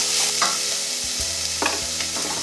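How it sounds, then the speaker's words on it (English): About 200 grams of onions sauté in a saucepan for a vegan cottage pie. A continuous sizzle is punctuated by several distinct scraping strokes as the onions are pushed around, with no speech. "we'll keep the onions moving around the saucepan"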